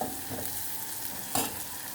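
Sliced onions and shallots sauté in coconut oil in a hot pan, sizzling softly and steadily while a spoon stirs, with one brief scrape near the end.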